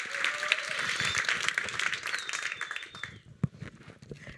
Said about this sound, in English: everyone, a round of applause for the fellows for